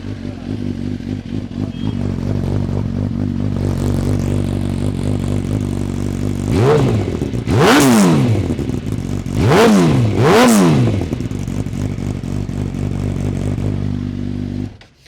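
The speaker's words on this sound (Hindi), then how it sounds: "इसके अंदर हमारा ओरिजिनल आक्रपोविच का एग्जॉस्ट लगा हुआ है" A Suzuki Gixxer motorcycle with an original Akrapovic exhaust idles loudly and steadily nearby, then is revved hard several times in quick bursts before settling back to idle.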